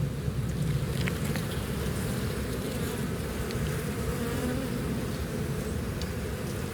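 Dense, continuous buzzing of many honeybees in a very full Kentucky hive during a spring inspection, loud and close, a steady swarm hum with no talk.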